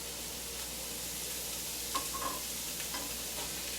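Diced small onion frying in two tablespoons of peanut oil for a Chinese dinner, a faint continuous sizzle with a few light stirring clicks near the middle.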